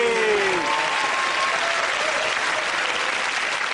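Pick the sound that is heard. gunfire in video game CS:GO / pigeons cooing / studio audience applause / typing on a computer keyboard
studio audience applause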